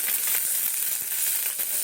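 Panch phoron spices crackle and sizzle in hot oil, a short burst of dense frying hiss with faint pops, no voices.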